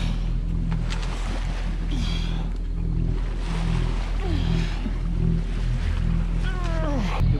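A sailing family's sailboat motors under engine across a calm sea in the Windward Passage, its steady low drone continuous throughout, with light wind and water wash and a few faint chirps above it.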